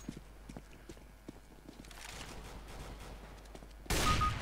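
Gunfire in the video game CS:GO: a sharp, loud burst of shots breaks in near the end, after a stretch of quieter, scattered clicks and taps.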